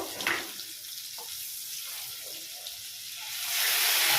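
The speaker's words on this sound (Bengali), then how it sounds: "এবারে আমি অল্প জল দিয়ে দেব" Water is poured into a pan of frying turmeric, chili and coriander powder spices, giving a brief splash and then a steady hissing rush that swells louder toward the end.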